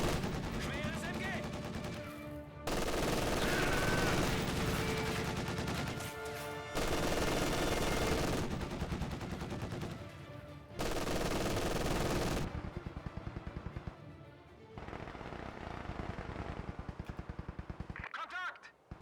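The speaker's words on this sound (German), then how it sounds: "Schweres MG!" Heavy machine gun fire in the video game Company of Heroes 2 rattles in long, loud rapid bursts broken by short pauses, with battlefield noise and soldiers' voices in German calling out around it.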